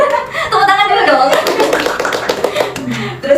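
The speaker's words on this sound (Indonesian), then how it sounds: "Tepuk tangan dulu dong." A small group of people clapping after a joke during an ice-breaking activity in a group counseling session, loud and uneven with chatter and talk mixed underneath.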